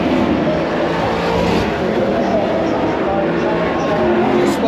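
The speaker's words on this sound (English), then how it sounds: "Super Utes out on track at the moment." Super Ute race trucks on track at the Adelaide 500, heard from up high on a Ferris wheel: a steady, loud roar of racing engines with a constant crowd and wind wash, no clear talk.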